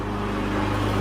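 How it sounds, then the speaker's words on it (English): A neighbor's lawn mower cutting grass outdoors, heard as a steady droning engine hum with a low, constant pitch that holds unchanged throughout, moderately loud and alone without any talk. "My neighbor's cutting the grass."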